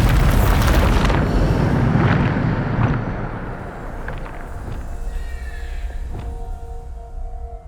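A Bombarda explosion spell cast in Hogwarts Legacy bursts loudly at the start, then a rumbling decay and scattered debris crackles fade over several seconds.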